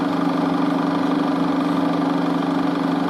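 A 35mm film projector with a large flywheel and sound drum runs nearby, giving a steady mechanical hum with a fine rapid clatter. The whir is continuous and even throughout, with no speech.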